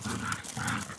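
Dogs growl during rough play, two low, throaty rumbling bursts in quick succession, close and moderately loud with no talking.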